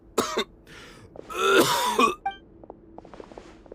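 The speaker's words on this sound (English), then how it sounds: "Why is he coughing so much?" A male character in the Genshin Impact video game coughs and clears his throat in harsh, rasping bursts, one short fit followed by a longer, louder one, close and alone.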